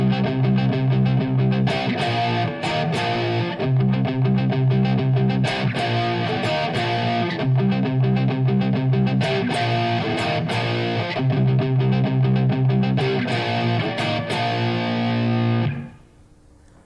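Distorted electric guitar plays a heavy power-chord riff in C as an interlude, loud and sustained, then cutting off near the end.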